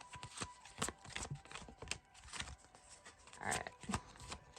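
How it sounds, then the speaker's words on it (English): A tarot card deck is shuffled by hand in a series of quick riffling and tapping bursts at close range, fairly quiet, with a brief spoken word partway through. "One more shuffle."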